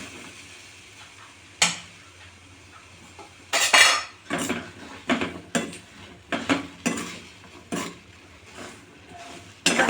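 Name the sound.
peanuts being stirred and roasted in hot salt in a pan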